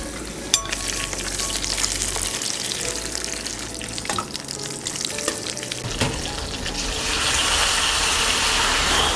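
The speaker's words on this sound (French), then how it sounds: "Donc on va mettre un petit peu de beurre, d'huile d'olive, on va les flamber" Butter and olive oil frying in a pan as it is flambéed with Japanese whisky, a steady crackling sizzle with stirring clatter and a few sharp knocks, growing denser and louder toward the end.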